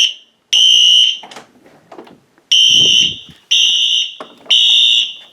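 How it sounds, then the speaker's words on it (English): A lower-pitched Wheelock Exceder fire alarm horn blares in repeated bursts of about a second each, four loud blasts with short gaps filled by quieter echoing alarm sounds. "the exceeder here is a little more low pitched"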